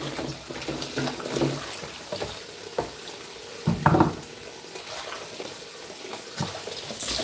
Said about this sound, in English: I will have to rinse this out again.